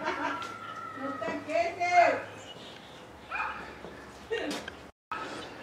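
Neighborhood dogs bark and yip in scattered bursts, mostly at a moderate distance, mixed in with a voice speaking nearby.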